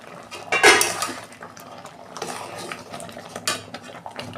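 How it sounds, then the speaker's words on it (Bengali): A metal lid lifts off a cooking pot holding mango pulp for homemade aamsotto, a bright clank near the start, then clinking, scraping and handling noises of utensils against the pot. "দেখুন বন্ধুরা, ঢাকনা খুলছি।"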